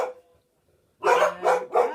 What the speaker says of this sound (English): Excuse my dog's going nuts.